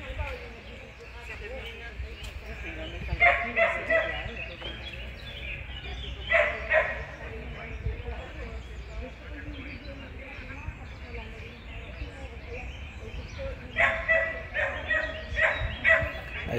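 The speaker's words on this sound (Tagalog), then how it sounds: "Ayan po ang ingay-ingay po ng aso" Several dogs in a park bark in scattered bursts at middle distance, with people talking over a constant outdoor background.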